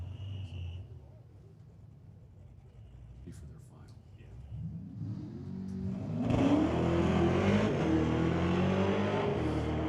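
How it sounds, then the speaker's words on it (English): A 1971 Pontiac Ventura drag racing, starting quiet then roaring up loud as it accelerates hard and shifts through the gears, engine pitch climbing and dropping with each shift and holding at full throttle. "Joel Smith rowing through the gears in that 1971 Pontiac Ventura."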